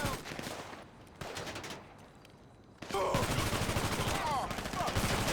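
Gunfire from Grand Theft Auto Online on PC comes in quick bursts and rattling volleys, quieter at first and then loud and sustained, with faint voice activity mixed in.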